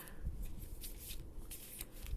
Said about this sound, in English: They're probably going to ask you to shuffle, so we're going to do that too.